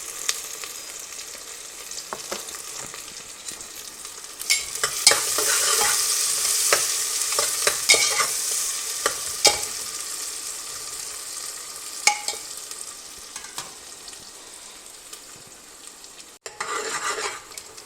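Onions and green chillies sauté in a pan for a vegan biryani, a steady sizzle that swells louder midway with repeated spatula scrapes and taps, then eases off.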